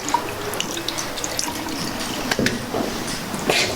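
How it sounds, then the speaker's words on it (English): Hands rinsed under a running tap in a sink, a steady close rush of water with splashes and drips shifting as the hands move beneath the stream. "I'm gonna rinse"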